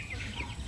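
A Shamo Aseel rooster, one of the parent breeding birds, gives a brief, soft cluck, faint and heard from a little distance while someone speaks nearby.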